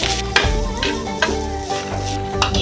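Two spoonfuls of ghee sizzle steadily in a hot pan, a close, continuous frying hiss with a few soft clinks and stirring scrapes on top, no talking.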